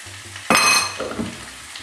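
Boiling water from a kettle poured into a pot of rice for arroz con carne: an abrupt, loud rushing hiss and sizzle that starts suddenly, then settles into a softer bubbling wash.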